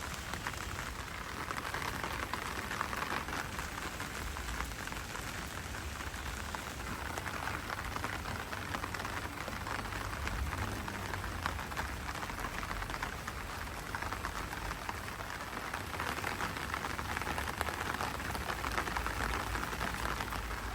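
Steady rain falls on a rooftop terrace garden full of flowering plants, a dense, even hiss of drops with no pauses, moderately loud and unbroken with no voices.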